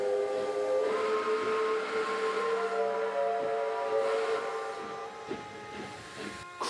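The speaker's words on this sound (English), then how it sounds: "I love American chime whistles." An American chime whistle on an S160 steam locomotive sounds a long, rich multi-note chord for several seconds, then breaks off into softer hissing and faint clanks.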